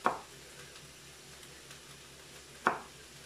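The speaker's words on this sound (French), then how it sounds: "Pendant que mes côtes de blettes sont en train de tomber doucement, les faire revenir tout doucement à la poêle" Swiss chard stalks frying gently in a pan give a soft, steady sizzle, with two brief louder clacks of a utensil at the start and near the end.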